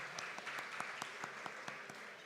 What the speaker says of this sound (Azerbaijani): Birinci növbədə gəlin bir dənə Akşin müəllimi alqışlayaq ürəkdən dostumuzu.